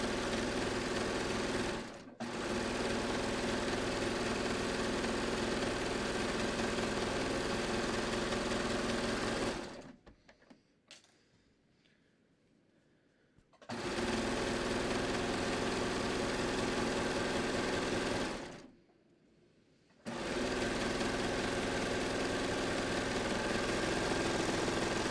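A sewing machine runs in long steady bursts while stitching the side seam of a front leg, whirring loudly and evenly, stopping twice for a few seconds before starting again.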